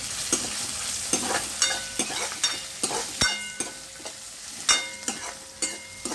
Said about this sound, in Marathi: आता मी त्याच्यामध्ये टोमॅटो टाकते. ते ढवळून घ्यायचं.